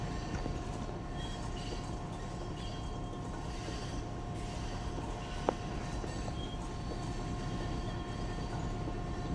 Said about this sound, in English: Just look at this mammoth of a train